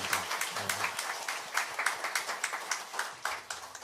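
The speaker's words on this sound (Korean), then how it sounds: "우리 감사의 마음으로 박수 한번 우리 성도님들 해주시기" A church congregation claps together during a Korean Sunday afternoon worship service. The hall-wide applause is soft and steady, with a low room hum underneath.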